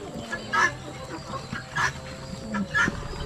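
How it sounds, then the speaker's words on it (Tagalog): Chickens clucking nearby in several short bursts, with a low background murmur between the calls. "Manok lang yung kumain."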